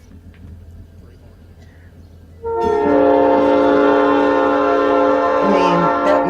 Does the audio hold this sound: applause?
no